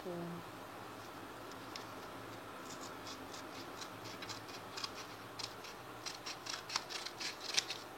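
Scissors snip through paper to cut out a binder label, their short crisp cuts quickening into a steady run of close snips over a quiet room hiss.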